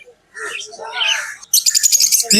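Conures and Fischer's lovebirds chirp at the Naihati bird market, with bright, high-pitched bursts of calls that overlap and grow busier and denser toward the end, close and fairly loud.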